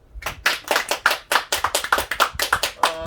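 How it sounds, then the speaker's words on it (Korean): A small group of newly passed prosecution and corrections officer candidates claps in a steady run of about ten sharp, close hand claps, evenly spaced and loud, with no voices. "오늘 서로에게 각자 서로 합격한 여러분에게 자기 자신에게 박수"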